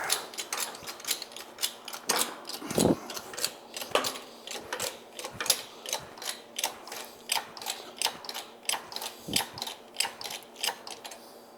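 A hand-cranked mold press used in forging a carbon steel skillet gives off a close, steady run of sharp ratcheting clicks and gear ticks in an even rhythm, repeating throughout with no voices.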